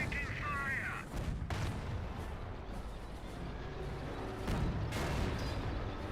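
Mortar fire in the WWII strategy game Company of Heroes, with a few sharp booming impacts standing out over a constant rumble of battlefield noise, a game voice briefly heard at the start.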